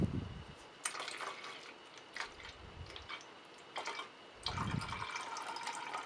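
Liquid from a shoe polish bottle being emptied into a spare jar or container while making a graffiti mop marker: soft irregular splashes and trickles, close and fairly quiet, with a few brief louder gurgles.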